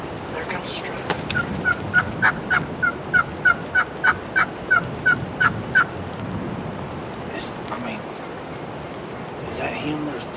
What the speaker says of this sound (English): It's the turkey that's gobbling.